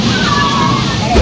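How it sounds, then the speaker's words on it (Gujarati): Water sloshes and splashes on a fun park ride at Rajkot's Fun World, a continuous close rushing wash with a heavier splash near the end, mixed with people talking. "કેટલું પાણી ઉડ્યું, કેટલો પલ્લ્યો છે."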